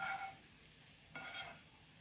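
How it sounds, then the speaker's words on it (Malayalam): Hot oil is poured into mango pickle and stirred in, making a soft steady sizzle with a brief scraping stir midway, faint and without speech. "ചൂടുള്ള എണ്ണ അത് കുറച്ച് ഇതിലേക്ക് ഒഴിച്ചു കൊടുക്കട്ടെ"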